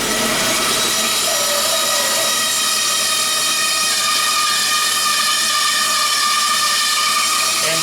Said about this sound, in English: This is a lot of material, this bandsaw clearing out.